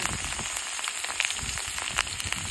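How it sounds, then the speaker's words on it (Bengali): Ground onion and garlic paste fries in a pan, giving a steady close sizzle with small irregular crackles and pops, alone and without voices. "পেঁয়াজ রসুন বেটে ভেজে নেই।"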